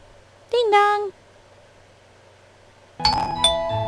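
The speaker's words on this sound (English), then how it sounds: "I rang the doorbell." A two-tone ding-dong doorbell chime sounds in the Corpse Party: Book of Shadows horror video game, first a short ring, then after a quiet pause a louder, brighter chime with ringing overtones.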